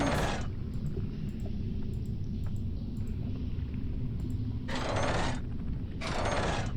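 Elevator machinery moving in the video game Rhem 2: a continuous low mechanical rumble with gear-like clicks, broken by two bursts of hissing, grinding noise near the end, steady and fairly quiet, with no voices.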